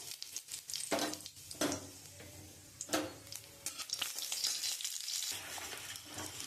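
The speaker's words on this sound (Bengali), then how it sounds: "আমি এই তেলের মধ্যে জিরা ফোড়ন আর তেজপাতা দিয়ে দেবো।" Cumin seeds and a bay leaf sizzle in hot oil for a soybean curry, a constant crackling fry broken by a few sharp stirring scrapes against the pan, close and alone.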